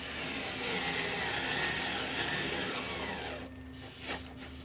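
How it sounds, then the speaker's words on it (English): Cordless electric screwdriver whirring at close range while working on a Porsche 911 997, a steady buzzing run that cuts off near the end, followed by a brief click and faint handling noise. "Very quickly with my electric screwdriver."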